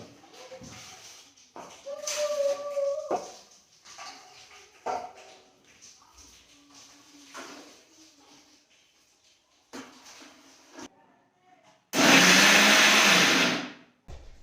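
A dog barks and whimpers intermittently, then a kitchen blender grinding chili paste roars loudly and close for about two seconds at the end.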